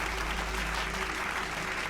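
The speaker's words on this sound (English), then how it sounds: "Give a big clap." A studio audience applauds a podcast host's welcome, a steady, dense wash of clapping held at an even level for the whole stretch, with no voices over it.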